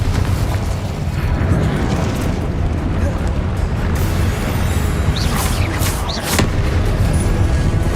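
Rumbling spell blasts and explosions from the Confringo curse and other combat spells in Hogwarts Legacy, loud and dense throughout, with a few sharper bursts near the end.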